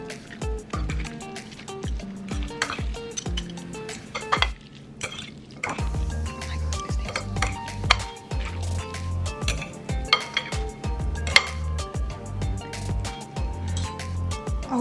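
Jjapaguri ram-don noodles with steak are stirred in a pan, producing repeated clinks, scrapes and soft knocks of utensils against metal at an uneven rhythm, close by, over a low background hum.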